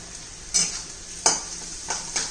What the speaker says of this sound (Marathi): कांदा परतून घेऊ आपण